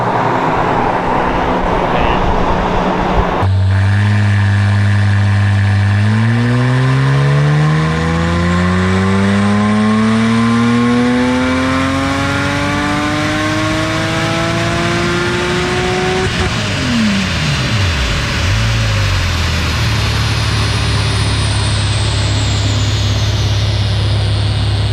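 A new 3.8L car engine on a dyno during tuning revs loudly in one long climbing pull, then drops back to a rough idle, roaring close and alone.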